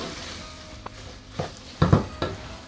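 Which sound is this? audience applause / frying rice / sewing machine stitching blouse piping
frying rice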